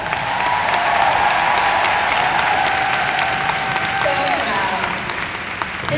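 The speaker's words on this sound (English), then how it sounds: "give me a huge round of applause" A large audience at a Mary Kay Ruby Seminar gives a loud, sustained round of applause with some cheering mixed in, dense clapping holding steady before easing slightly near the end.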